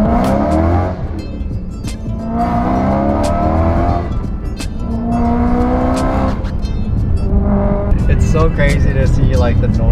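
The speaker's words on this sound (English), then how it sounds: "when you actually hear it with the V8 coming out of it" BMW E91 M3 wagon with an S65 V8 swap driving, its engine droning and rising in repeated revving pulls, loud and close throughout, with people talking over it.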